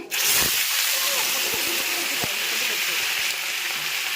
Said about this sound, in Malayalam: അപ്പം ചൂടായിക്കൊണ്ടിരിക്കുന്ന വെളിച്ചെണ്ണയിലേക്ക് നമ്മൾ കടുകൂട്ടന്മാരെ ഇട്ട് കൊടുത്തു